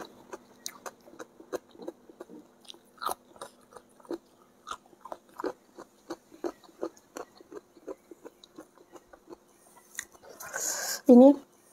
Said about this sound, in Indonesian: Mama ya cobain daun bawang mentah.